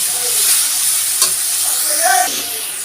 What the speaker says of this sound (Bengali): আর ভালোভাবে কষিয়ে নেবো মশলাটা